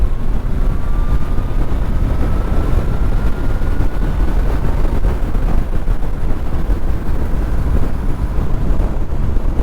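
A 2009 Suzuki Bandit 1250 N motorcycle engine pulling hard from about 110 km/h to overtake, a loud continuous roar buried in heavy wind rush at speed, with a faint rising engine note.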